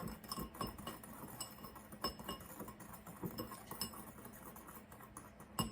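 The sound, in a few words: whisking sugar and cinnamon together in a bowl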